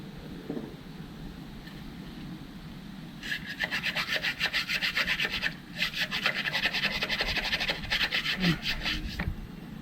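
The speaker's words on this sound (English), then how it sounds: "Gonna agitate it by scrubbing in and out." A part from a 2014 GMC Acadia 3.6L engine, soaked in brake cleaner, is scrubbed back and forth with a brush, giving rapid rhythmic rasping strokes up close. The strokes start after a few quiet seconds and run in bursts.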